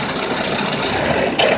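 Equipment engine revving as gas is given, a loud steady close mechanical roar with rattle and a high whine joining partway, without any talking.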